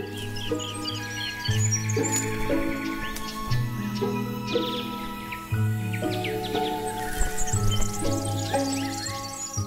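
Small perching birds squabble over territory on Fraser Island heathland, a busy overlapping chorus of sharp chirps, trills and squeaky calls, close and loud, with continuous insect-like buzzing beneath and no talk.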